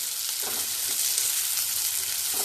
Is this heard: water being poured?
no